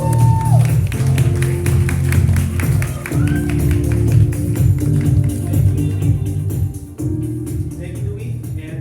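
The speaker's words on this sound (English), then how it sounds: "let's give a big warm round of applause" Audience applause at the OPPO Reno 11 Series launch in the Philippines: dense, steady clapping runs for about nine seconds over loud stage music, thinning slightly toward the end.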